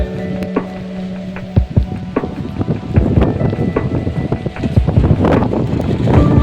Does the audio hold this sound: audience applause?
no